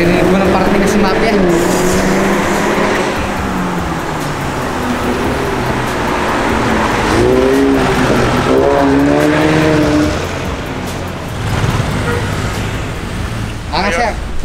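A car fitted with a Borla exhaust roars loudly and continuously close by, its engine note rising and falling with revs, while someone talks over it.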